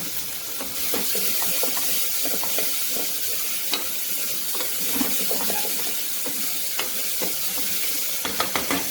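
Chopped vegetables and pointed gourd (parwal) sizzle steadily in hot oil in a pan for poha khichdi, with repeated clinks and scrapes of a spoon stirring throughout.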